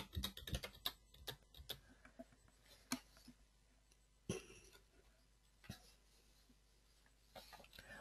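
Keys clatter on a computer keyboard as a login email and password are typed, with quick bursts of taps followed by sparse, isolated keystrokes against a quiet room.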